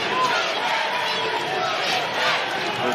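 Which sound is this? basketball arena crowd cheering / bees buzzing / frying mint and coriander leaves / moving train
basketball arena crowd cheering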